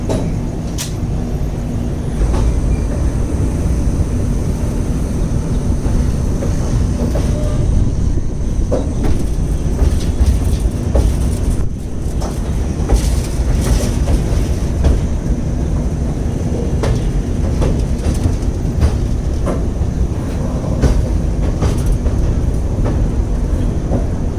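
Loud, continuous rumble of the Nagercoil–Mumbai passenger express train running on rails, with steady rattling and occasional clicks from the wheels, heard from inside or close by.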